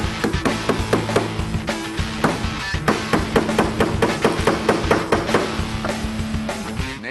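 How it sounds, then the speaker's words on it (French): A Nokia Lumia 900 phone used as a hammer to drive nails into a rough wooden board, giving a rapid, steady series of loud, close knocking strikes. "Maintenant, on va utiliser le téléphone lui-même comme un marteau."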